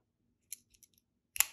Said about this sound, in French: la paire de ciseaux,